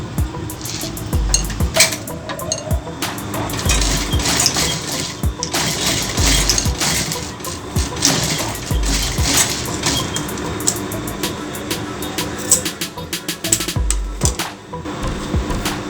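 A sewing machine stitches a fabric hairband made from old cloth, a fast continuous mechanical rattle with brief pauses and clicks, fairly close and steady.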